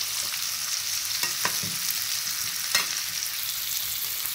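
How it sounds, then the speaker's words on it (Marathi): Semolina-coated fish frying in a pan with a steady close sizzle, broken by a few sharper crackles and bursts as the pieces are flipped partway through. "अशा प्रकारे आपली ही मच्छीसुद्धा आता मस्त अशी फ्राय झालेली आहे"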